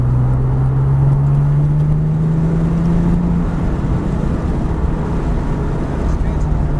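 A Ferrari 360 or Porsche 996 Turbo sports car engine pulls hard on a race track, a loud steady in-car drone with a rising tone as the car accelerates under power.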